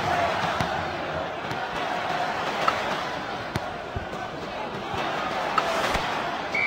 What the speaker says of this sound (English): The crowd are jeering the player.